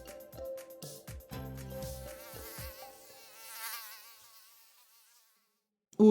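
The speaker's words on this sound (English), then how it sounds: "mosquitoes" Whining insect buzz of mosquitoes with wavering pitch, near and steady through most of the clip, fading out before a brief loud thump at the end.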